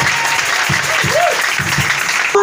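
An Easter congregation at a church mission claps loudly and steadily, a dense wash of applause with scattered voices calling out over it.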